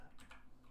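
Quick keystrokes on a computer keyboard while a laser-cut finger joint box is drawn up in design software. A few close, crisp clicks land in under a second over a low background hum.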